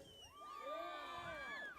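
A rally crowd in Window Rock on the Navajo Nation cheers and whoops, with high shouts and whistles rising and falling over a steady roar; the sound is faint and brief.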